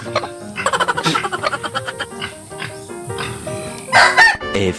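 Chickens in a coop clucking and squawking in rapid, overlapping bursts, close and fairly loud, with a louder flurry of calls near the end.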